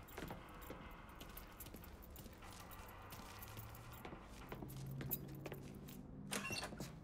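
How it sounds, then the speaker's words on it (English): Keys jangling as they are picked up in Mafia 3, a quiet rattling metallic jingle beside a car, with soft clicks and rustles over low engine or ambient hum and no talking. "Lincoln, pick up the keys."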